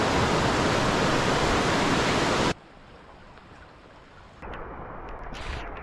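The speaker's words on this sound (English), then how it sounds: "now we have a waterfall" A waterfall roars loud and steady for about two and a half seconds, then cuts abruptly to near quiet, before a fainter hiss returns.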